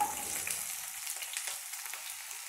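Roughly chopped onions sauté in hot oil in a kadhai, giving a close, steady crackling sizzle with bright hissing pops throughout.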